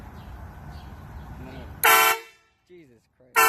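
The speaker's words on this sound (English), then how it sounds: "go ahead and push the train horn button" A train horn mounted on a homemade go-kart with LEDs gives two loud, close blasts: a longer one, then a second that starts near the end, with a voice and background noise before the first.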